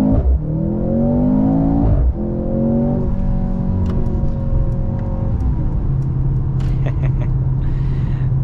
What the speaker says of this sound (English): So I'm gonna go ahead and do an acceleration right here.